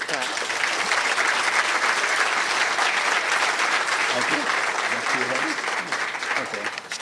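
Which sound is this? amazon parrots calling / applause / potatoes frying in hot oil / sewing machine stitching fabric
applause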